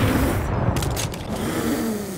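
Heavy booming gunfire and crashing destruction from a Barrett .50 cal heavy sniper rifle in Fortnite Battle Royale, a loud dense burst of blasts and debris over about two seconds, with no voices.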